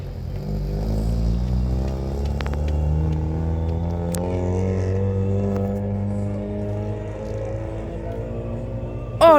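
Several car engines rumble steadily at a historic hill-climb rally gathering at Borgo Lucciana, a close, sustained low drone with rising revs. A sharp burst at the end.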